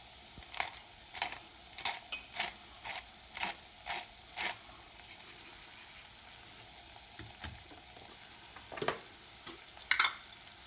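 Spinach roots are sautéed in a pan, giving a soft steady sizzle broken by a run of sharp, evenly spaced spoon taps and scrapes against the pan, with louder clatters near the end.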